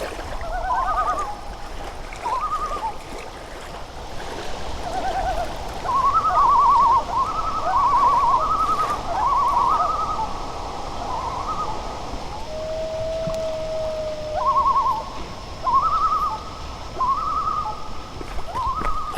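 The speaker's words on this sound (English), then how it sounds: "So I'm looking out on Long Pond, and there's a group of 4 loons just right, not that far off from" A group of four common loons calls across a wilderness pond on the Appalachian Trail, giving repeated wavering tremolo phrases and one long drawn-out wail, moderately distant over a soft steady background of flowing water.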